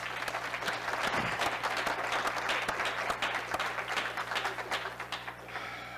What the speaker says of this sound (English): So let's give all these people a round of applause.